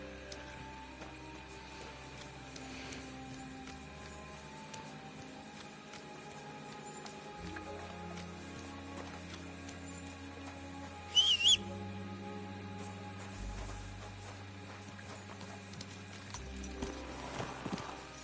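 Hooves clip-clop in a steady rhythm from a horse in a medieval video game, faint under layered game ambience and music, with one brief louder sharp sound midway.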